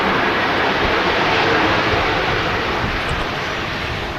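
A jet airliner arriving from Dublin roars past at Manchester Airport after aborting its landing late, a loud, broad, steady engine rush filling the whole clip with no voices.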